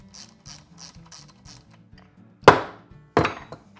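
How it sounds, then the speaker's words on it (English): A ratchet clicks as nuts are backed off the studs of a Triumph 650 motorcycle engine, first a run of light rhythmic clicks and then two louder, sharper bursts, close by with no talking. "I guess we could throw a ratchet on there, that'd probably be a little faster."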